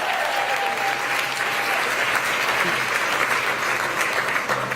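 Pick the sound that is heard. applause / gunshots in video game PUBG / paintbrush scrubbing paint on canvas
applause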